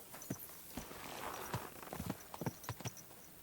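Horse hooves clip-clop on the ground in Kingdom Come: Deliverance 2, a handful of moderately close, uneven steps spread across the moment over faint ambient background.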